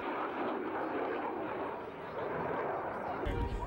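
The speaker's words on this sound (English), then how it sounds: "The F-16." An F-16 fighter jet flying at an air show makes a loud, continuous, broadband roar throughout, with a deeper rumble swelling at the end.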